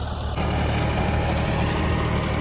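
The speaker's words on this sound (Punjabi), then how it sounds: "ਟਰੈਕਟਰ ਦਾ ਜੋਰ ਦੇਖਣ" A 5210 tractor engine runs close and loud, a steady low rumble throughout the short stretch.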